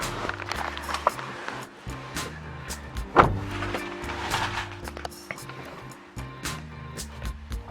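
Power windows on a Toyota Axio hybrid whir as the motor drives the glass, pausing and restarting, with a sharp thump partway through and a steady background hum.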